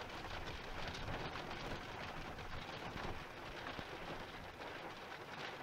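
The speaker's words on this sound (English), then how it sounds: "It's starting to rain pretty heavily" Heavy rain pattering steadily on the roof and windows of a car at night during a cancelled wild camp, a dense continuous wash of close drops with no let-up and no voices.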